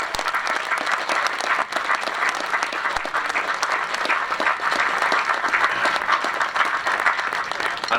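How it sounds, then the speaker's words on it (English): Audience applause for the bands at a bugle band festival, a dense, sustained crowd clapping that stays loud and even throughout, with a few faint voices inside it. "So a big round of applause for all the bands for turning up today."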